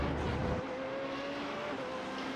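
An F3.5 open-wheel race car engine at Road America in the iRacing sim holds a loud, steady high-pitched drone, a heavier low rumble dropping away after the first half-second.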